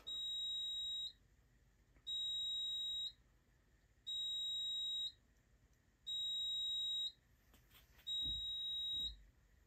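A Wheelock fire alarm system's smoke detector sounds five evenly spaced, loud steady beeps about two seconds apart, with a brief rustle near the end.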